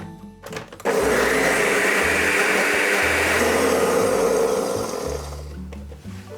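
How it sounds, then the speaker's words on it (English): A blender puréeing carrot soup starts abruptly and whirs loudly and steadily for several seconds, its pitch dropping slightly as it runs, then winds down near the end. "Now, everything is blender ready."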